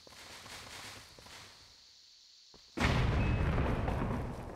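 A bomb blast in Zelda: Wind Waker, cave exploration, lands as a single sudden loud boom after a brief lull of quieter game sounds, its roar sustaining and slowly fading.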